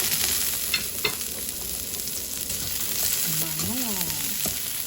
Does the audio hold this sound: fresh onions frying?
yes